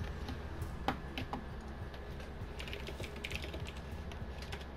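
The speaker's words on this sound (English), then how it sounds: "I hear you typing away" Computer keyboard typing during a Rainbow Six Siege session, rapid light keystroke clicks over a constant low background hum, fairly close and moderately quiet, with no talking.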